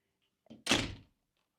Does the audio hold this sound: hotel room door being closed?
yes